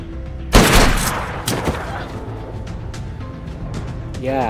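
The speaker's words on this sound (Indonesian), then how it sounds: "Federico hendak menembak Evelyn" A sudden loud gunshot rings out in the 2009 film The Thaw, followed by a fading echo and a few quieter impacts beneath ongoing soundtrack and voice-over narration.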